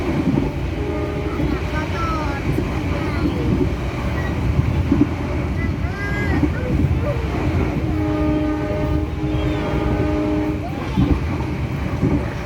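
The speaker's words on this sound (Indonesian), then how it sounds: "Setelah asik lihat sawahnya orang, kereta api pun sampai di stasiun Cepu." Airlangga passenger train between Surabaya and Semarang, a steady loud rumble of wheels and carriages with a brief horn-like tone near the end, under a voice talking.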